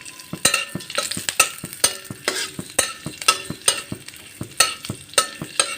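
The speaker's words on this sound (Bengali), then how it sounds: "ডাল সম্বারের আওয়াজটা কিন্তু ভীষণ ভালো লাগে" Garlic and dried chili sizzle hard in hot oil as a tempering for dal, with sharp crackling bursts and spatters. Metal stirring clinks come in an uneven, repeated rhythm, loud and close, with no talking.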